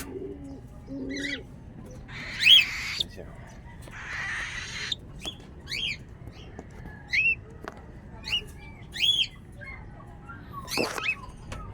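Short squawking calls from a red pet bird come in scattered bursts, fairly close, between stretches of quiet with some background noise and low murmurs.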